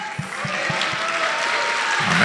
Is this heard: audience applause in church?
yes